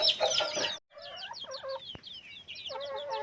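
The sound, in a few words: chickens clucking in a farm coop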